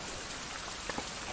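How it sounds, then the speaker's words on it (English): Steady rain pours down in the survival video game Survival: Fountain of Youth, a dense, even hiss of drops hitting surfaces with a few faint patters, no voices. "And it's raining."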